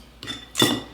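A spoon clinks against a bowl twice in quick succession, one light tap and then a louder knock, while a dry spice mix is added. The sounds are close, with no talk.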